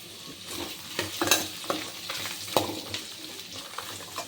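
Radish and tamarind fry in a pan for mullangi chutney, a continuous soft sizzle broken by repeated scraping stirs and small clacks of the spoon.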